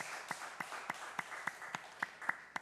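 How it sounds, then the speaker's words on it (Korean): Church congregation at a Sunday worship service clapping in unison, a slow, steady rhythmic beat of sharp claps at roughly even intervals, heard faint and distant. "우리 하나님 앞에 영광의 박수를 올려드립시다"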